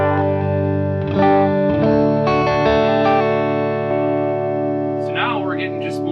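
An electric guitar rings through a Pharmacist DIY pedal set clean, sustained chords with slight preamp coloring and little breakup, close and steady, with a voice briefly speaking near the end.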